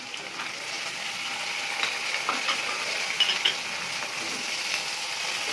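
Chopped tomatoes frying in a pan as a spoon stirs them, a soft steady sizzle with light scraping and clicks, fairly quiet and without talk.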